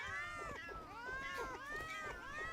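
Meow Mirror, a cat-like pal in the game Palworld, lets out a rapid run of high, bouncing meows that overlap one another, steady and close throughout.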